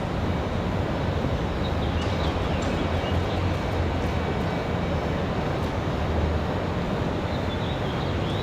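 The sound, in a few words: Aeromexico jet airliner departing at Raleigh Durham airport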